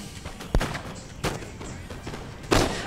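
Infantry musket volleys in Napoleon: Total War crack out as three separate booming bursts spaced about a second apart, over a low rumbling battlefield background.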